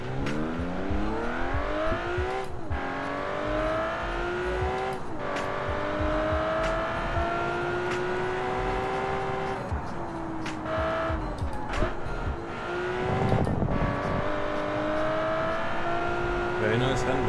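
Race car in a car-building sandbox game, its engine droning steadily with rising and falling pitch as it accelerates and shifts, with occasional tire squeal and skids throughout.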